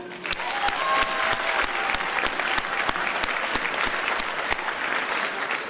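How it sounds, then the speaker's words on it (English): A graduation crowd at the Workforce Advantage Academy gives a sustained round of applause for teachers and staff, dense steady clapping with a few sharper individual claps standing out near the front, and no voice over it. "So one round of applause."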